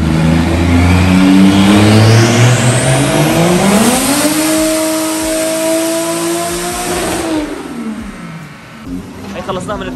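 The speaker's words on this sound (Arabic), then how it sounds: "طلع على الداينو رن سريع شيك على السيارة" A tuned drift car is revved on a dynamometer during a quick run, the engine climbing loudly through rising pitch, holding near the top, then dropping off as it winds down, close and dominant throughout.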